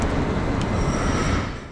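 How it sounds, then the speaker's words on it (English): A night train hauled by a Siemens Taurus locomotive rumbles into a station platform with a dense, steady roar and faint squeal, easing off slightly at the end. "And here comes our train, pulling in around 10 minutes before scheduled departure."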